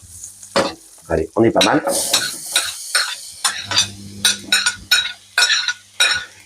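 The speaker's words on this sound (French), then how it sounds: "Quand le beurre finit de chanter, là vous pouvez mettre les pommes." Apples dropped into butter in a pan, sizzling under repeated scraping and stirring strokes from a utensil, with a few clinks, while a person speaks briefly.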